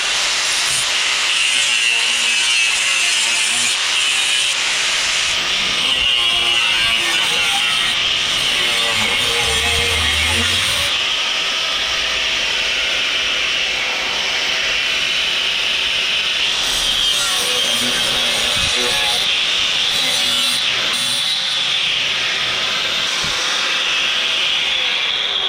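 Steady, loud hiss and rasp of cutting through metal mount stock for custom off-road headlights, continuous for the whole stretch with small shifts in texture and no voices.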